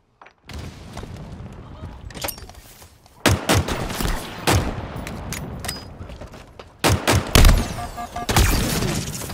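Weapon fire in the shooter game Halo Infinite during a Cyber Event Showdown match. Loud, punchy shots and booms come in separate bursts, and an announcer voice speaks between them.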